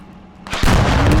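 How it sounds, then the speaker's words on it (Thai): A sudden loud blast of artillery-like gunfire and explosion erupts in the military shooter game Squad after a quiet moment, with heavy booming low end that stays loud and close. "กล้องนี้ไกลแต่เสียงระเบิดน่ากลัวจัง"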